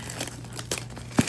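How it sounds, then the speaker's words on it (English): Plastic wrap is pulled off a DJI Mic Mini box, making a brief close crinkling and tearing rustle with a sharper crackle near the end. "Get that plastic wrapping off"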